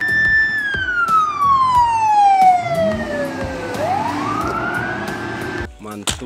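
A toy police car's electronic siren wails loud and close, its pitch sliding slowly down and then back up in a long sweep, while someone talks over it and clicks sound near the end.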